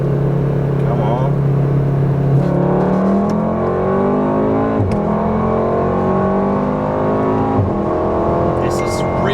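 A tuned Mk7 Golf R accelerates hard from a 30 mph roll, its engine note climbing steadily through the revs with shifts, loud and close from inside the car, with occupants talking over it.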